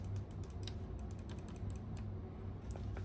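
Quick plastic clicks from the extra buttons of a GameSir G7 Pro controller tapping out in irregular bursts, close by and fairly quiet, over a low steady background hum.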